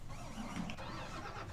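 A car engine cranks and catches in Farming Simulator 19, a short steady mid-pitched mechanical start heard alone and fairly quiet.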